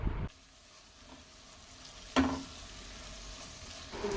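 Spice paste with poppy seed paste being sautéed in a pan: a low, quiet sizzle with a couple of brief scraping stirs, one sharper clink near the middle.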